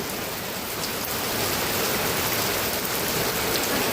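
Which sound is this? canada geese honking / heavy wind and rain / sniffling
heavy wind and rain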